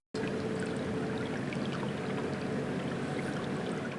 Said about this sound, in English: The Little Niagara River brings nature onto the campus running in front of the new Davies Center